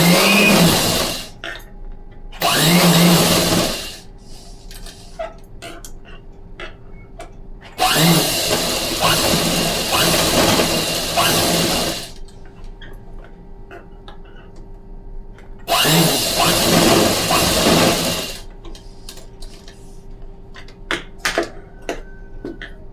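Sewing machine stitching a Bengali pillow cover. Three bursts of loud mechanical whirring are separated by quieter pauses with small handling clicks.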